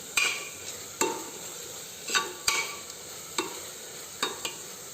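Garam masala and sambar powder frying in hot oil for dal khichdi, with a soft sizzle beneath sharp, evenly spaced spoon scrapes against the pan, about eight strokes, close and clear.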